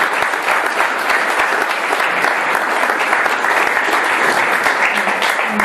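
An audience at the end of a lecture at a Nantes conference breaks into dense, sustained applause, loud and continuous, with many hands clapping at once.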